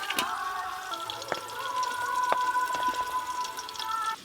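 Potatoes fry in a pan with a steady, soft sizzle and occasional crackles, while a faint sustained tone hums in the background.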